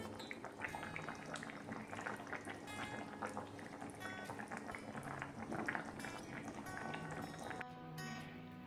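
Chicken curry gravy bubbling in a covered pot on the stove, a continuous close simmer of popping bubbles and lid rattle, steady and moderately quiet, with a brief clatter near the end.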